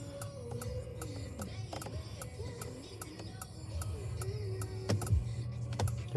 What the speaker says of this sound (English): The turn signals are loud.